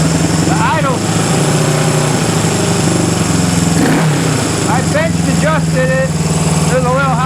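A 1974 Honda CB360 motorcycle idles steadily up close, its engine note running the whole way through as a person talks over it.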